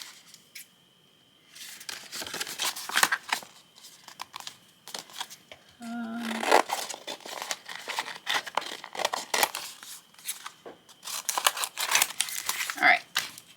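Scissors snip and crunch through paper in repeated bursts of cutting and crinkling, close and moderately loud, separated by short quiet gaps.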